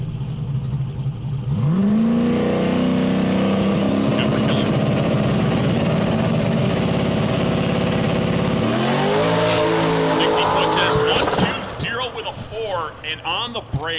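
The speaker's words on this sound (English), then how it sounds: "The car left the line real nice, made a little bit of a noise." A drag race car launches hard off the line at a street-style drag event, its engine roaring up in pitch and holding a loud, sustained howl before shifting higher, with a commentator talking over it.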